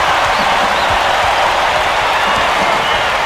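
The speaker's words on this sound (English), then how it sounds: "This crowd couldn't be any happier. Just listen to the people in this building." Basketball arena crowd in the College Hoops 2K8 video game roars and applauds as a steady, dense wash of cheering and clapping that fills the whole moment.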